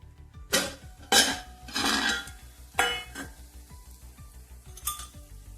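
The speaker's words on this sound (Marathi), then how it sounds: "आता यांना पलटी करून घेऊया." Sabudana appe are flipped in an appe pan in a series of metal scrapes and clinks, about five distinct bursts spaced unevenly over a quiet low simmer.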